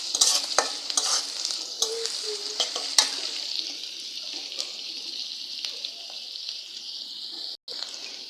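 Chopped onion, about half a cup, sizzles steadily in hot oil for kalmi greens stir-fry, a continuous bright hiss with occasional stirring scrapes, close and alone.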